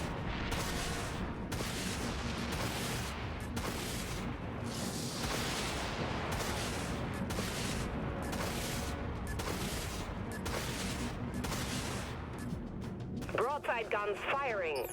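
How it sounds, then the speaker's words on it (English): Broadside guns of a warship in the Dreadnought video game fire in a dense, continuous barrage of booming volleys lasting throughout, with people talking over the steady heavy rumble. "Broadside guns firing."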